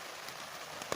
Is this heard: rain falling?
yes